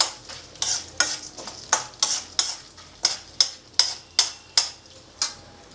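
Chana dal and urad dal frying in oil in a pan, with about a dozen sharp, evenly spaced scraping stirs over a faint sizzle, close and clear.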